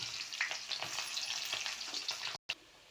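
Onions, both small shallots and large onions, sizzle and crackle steadily in a hot pan of oil for a beet masala rice dish, with soft stirring scrapes throughout and a brief dropout near the end.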